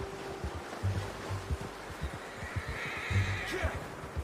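A horse in the Red Dead Redemption 2 video game gives a faint, short whinny late in the clip, over a low rumbling ambience and soft rhythmic hoof-like thuds.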